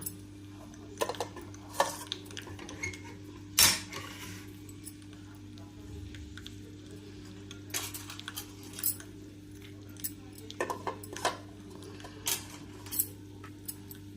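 Curd curry ingredients with salt, sugar, green chilli, onion and coriander are stirred in a bowl, faint scattered clinks and scrapes of a spoon over a low steady background hum.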